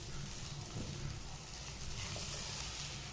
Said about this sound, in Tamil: தேங்காவை சேர்த்துட்டு லோ ஃப்ளேமில் வச்சு நல்லா வந்து வதக்கி விடுங்க